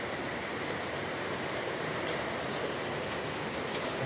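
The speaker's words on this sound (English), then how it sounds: "it started roughly, now it's 4 hours, still raining" Heavy January rain pours down in a continuous, even wash of dense patter, with occasional brighter drips on surfaces, steady and enveloping from start to finish with no talking.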